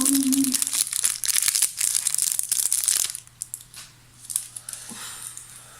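Someone unwraps a wrapped caramel chocolate: loud, close crinkling and crackling of the wrapper for about three seconds, then quieter, scattered rustles as it comes free.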